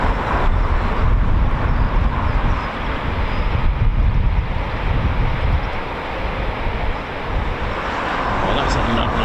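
Texan aircraft fly past at an air display, a loud, continuous propeller engine roar with broad rumble that swells and eases slightly over several seconds, heard close and dominant.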